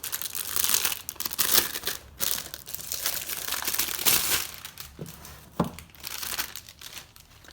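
Packaging crinkles and rustles while a box for a MOTERM A5 pebbled taupe item is taken from a bubble wrap envelope, with close, uneven crumpling and tearing and a few sharp snaps.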